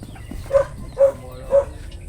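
Three short, evenly spaced dog barks, moderately close, over a low background rumble, in a rural Philippine setting.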